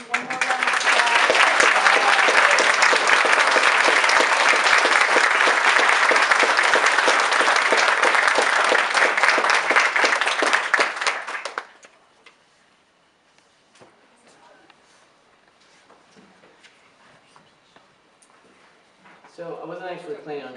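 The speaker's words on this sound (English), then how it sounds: "And one more round of applause." Loud sustained applause from a large crowd at a university white coat ceremony for about eleven seconds, then fading to near silence with faint shuffling before a voice resumes.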